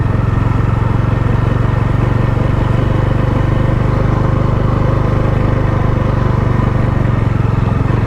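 A motorcycle engine drones steadily at a constant low pitch, close and loud, as the bike rides along a forest road near Devkund, Odisha, without changing speed.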